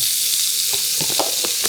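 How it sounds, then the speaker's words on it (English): Red onions sliced into quarter moons sizzle in a hot pan, a loud, steady crackling hiss with a few sharper pops and stirring scrapes, close up and without talking. "All that sizzling."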